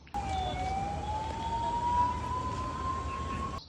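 A fire brigade siren sounds at a plastic factory fire in the Vidhan Sabha police station area, a single long tone rising slowly and steadily, loud and near, with traffic rumbling beneath and no talking.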